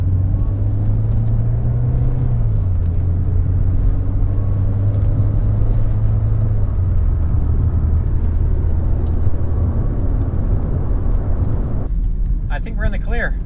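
A car runs through a test drive after a check engine light repair, its engine droning with a steady low rumble that rises and shifts pitch as it gains speed, close and continuous under faint cabin noise.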